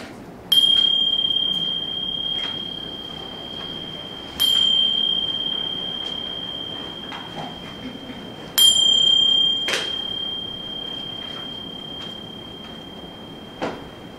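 Meditation chimes struck three times at a steady pace, each bright ringing tone sustaining and slowly decaying into quiet before the next, with a few faint knocks between.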